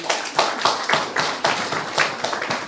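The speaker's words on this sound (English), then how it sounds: "We clap for President Museveni." An audience claps for President Museveni, with bursts of hand claps arriving in an uneven rhythm that recur for a few seconds, loud and close.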